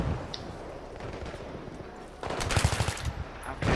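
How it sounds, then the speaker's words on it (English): Gunfire in the video game Battlefield 3 comes as rapid automatic bursts, faint at first and then louder clattering volleys in the last second and a half, with no talking. "Oh wow, I'm getting shot."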